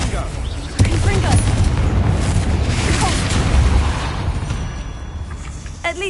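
A Confringo fire spell blasts in the Hogwarts Legacy video game, a loud booming explosion with a rumbling tail, followed by more game effects and crackles, and a voice talking over the sound.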